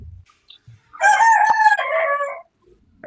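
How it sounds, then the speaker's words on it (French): A rooster crows once, loud and close, a drawn-out cock-a-doodle-doo of about a second and a half, with near silence around it. "Seigneur pour le chant du coq."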